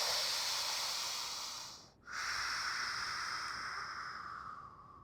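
A person breathes in deeply through the nose during a lower-body fascia exercise, a long steady airy hiss, a brief pause, then another long inhale, close and soft.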